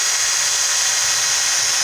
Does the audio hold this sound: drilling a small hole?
yes